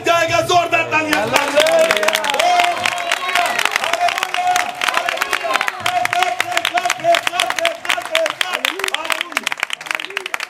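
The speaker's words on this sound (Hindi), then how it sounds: "जोरदार तालियां।" A church congregation at a Pentecost sermon breaks into loud, sustained applause, mixed with cheering from the crowd, clapping steadily for about ten seconds.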